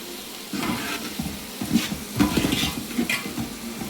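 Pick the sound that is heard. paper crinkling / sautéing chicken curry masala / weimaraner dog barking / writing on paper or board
sautéing chicken curry masala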